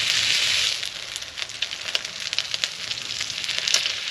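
Bacon sizzling as it fries in a pan at a winter campsite, a close crackling hiss with scattered pops, loudest at the start and then settling into a steady, softer spitting.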